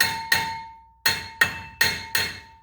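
A hammer strikes a rusted front brake rotor on a 2009–2014 Ford F-150 in six sharp, ringing metallic taps: two close together, a pause, then four more, each decaying quickly, close up with no talking.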